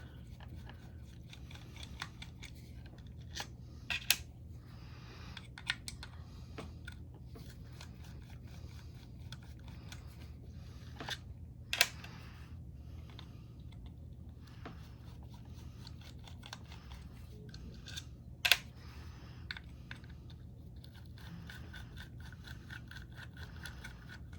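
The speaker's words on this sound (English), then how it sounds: "we're going to remove these 4 screws" Screws being backed out of the bridge of a Pflueger Capital fishing reel, heard as faint, close clicks and small scraping ticks spread irregularly over a quiet background, with a few sharper metallic snaps.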